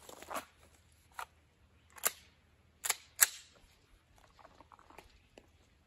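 Pistol shots ring out at an outdoor live-fire support-hand drill, several sharp reports spaced about a second apart, moderately distant, with faint rustling between.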